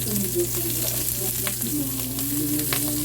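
Onion fries loudly in a hot pan for pork kaldereta, a dense continuous sizzle with stirring clatter, close and alone.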